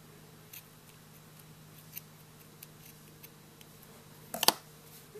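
Scissors cut off crochet yarn ends, with a few faint scattered clicks and then a sharper, louder cluster of snips near the end in a quiet room.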